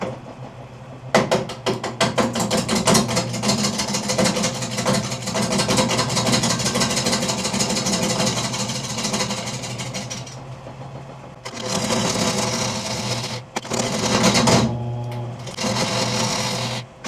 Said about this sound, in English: Whittling away at the corners, trying to get it round enough I can spin it faster and make better progress